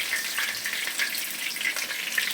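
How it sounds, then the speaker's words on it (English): Snapper fillets sizzle as they fry in a hot pan, a steady close hiss and crackle that runs throughout with no talk over it. "the fish is it's browning on one side first. You don't want to give it a chance. You hear the sizzle?"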